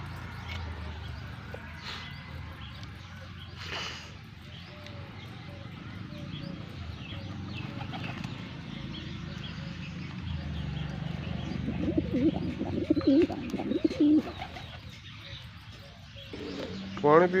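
Pigeons cooing softly nearby outdoors, low repeated coos with occasional chirps and flutters, under people talking throughout.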